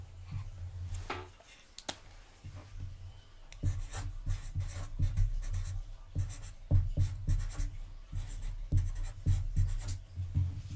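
A pen or pencil writing score measurements by hand on paper during a stamping and card-making class: repeated scratchy strokes in irregular bursts, close and quiet, with a few small taps between, with no one talking.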